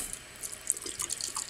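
A faucet running into a sink while a fluffy makeup blending brush is rinsed under the stream: a steady soft water hiss with small splashes and drips, close but fairly quiet, no talking.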